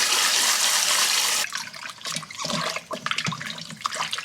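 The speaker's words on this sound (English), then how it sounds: "So there you go, 2 doves ready to rinse and clean." Tap water runs onto two freshly cleaned doves as they are rinsed at a sink, a steady broadband splash at first, then breaking into uneven splatters and drips as the birds are moved under the stream.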